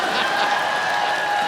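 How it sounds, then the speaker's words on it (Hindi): A brief, steady wash of studio audience applause at The Kapil Sharma Show in a TV comedy studio, with faint tonal music underneath. "तो एक बार जोरदार तालियां सनी के लिए"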